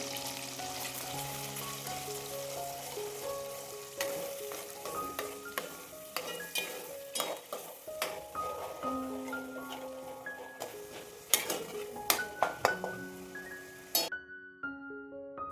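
Ground masala fried in oil for egg curry, with a continuous sizzle and repeated scraping and tapping of a spoon in the pan, growing busier near the end before stopping abruptly, with faint background music.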